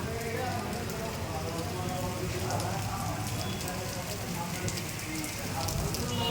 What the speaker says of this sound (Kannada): ಒಳ್ಳೆಯ ಮಳೆ ಬರ್ತಾ ಇದೆಯಪ್ಪ ಚೆನ್ನಾಗಿದೆ